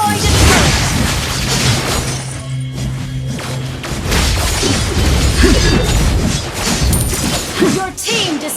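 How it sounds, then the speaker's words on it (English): Turret destruction in Mobile Legends, a loud crumbling crash and booming thuds mixed with battle effects and game announcer voices, dense and continuous. "Your team destroyed a turret!"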